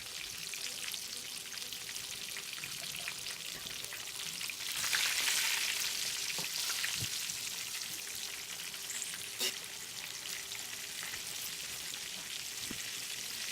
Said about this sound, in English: the sound of the fryer is like,